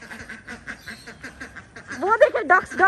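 A group of ducks quacks together outdoors, with quick repeated quacks that grow louder and denser toward the end; the calls are close and clear.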